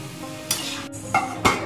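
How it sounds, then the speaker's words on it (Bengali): Food stirred and mixed in a pan, with a soft sizzle of frying under a few brief louder scraping strokes. "ভালো করে মিক্স করে এখন ঢাকা দিয়ে রেখে দেবো।"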